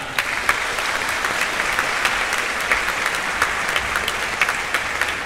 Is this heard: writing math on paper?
no